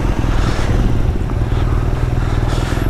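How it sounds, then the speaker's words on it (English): A 2020 BMW R nineT Scrambler's engine runs loud and close, with a steady throbbing rumble broken by a couple of brief, sharper bursts. "I'm getting that nice little backfire every so often."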